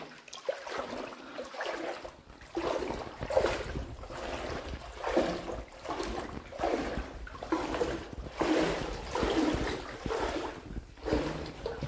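Someone wades through knee-deep water in a pitch-dark rock cave at Kalyangad fort in Satara, each stride making a rhythmic swish and splash that repeats every second or two in close, echoing surroundings.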